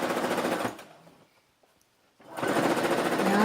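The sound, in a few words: sewing machine stitching baby frock sleeve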